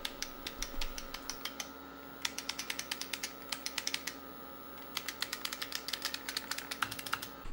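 Rapid clicking of an IBM 5155 computer keyboard typing in bursts with short pauses, crisp and close, over a faint background hum.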